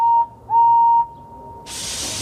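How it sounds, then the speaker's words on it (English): A steam whistle sounds in two sharp high blasts, a short one then a longer one, followed by a burst of hissing steam. "Henry blew his whistle"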